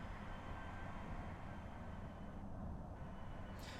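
Train running in Train Drive ATS 2, a steady low rumble of wheels and motors rolling along the track, continuous and fairly quiet.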